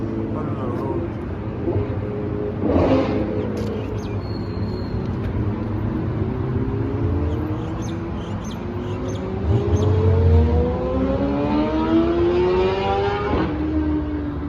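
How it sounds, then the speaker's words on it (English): A Ferrari F12 812 Superfast passes on the road during a morning car meet, its engine rising in pitch through a long rev amid background traffic and people talking nearby. "I just want to listen to this F12."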